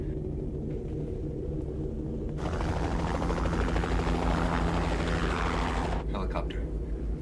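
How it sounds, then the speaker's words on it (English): A helicopter's heavy rotor rumble swells in and holds steady for several seconds, loud and close, over a low background drone. "Helicopter."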